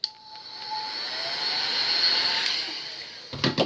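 A heat gun blows hot air onto vinyl wrap stretched over a curved surface, a steady, loud whooshing roar that swells slightly before cutting off, followed by a few brief handling knocks.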